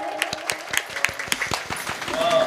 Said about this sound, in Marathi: कृष्ण महाराज तुमच्याकरिता एकदा टाळी वाजव